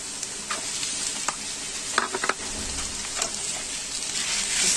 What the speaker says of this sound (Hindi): अदरक लहसुन भी फ्राई हो गया है, और अभी इसमें डालेंगे चिकन का कीमा।